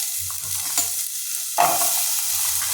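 Potatoes drop into hot oil in a kadai wok, and a sharp sizzle bursts out midway through the short clip. Faint stirring scrapes come before it, and a steady frying hiss continues afterward.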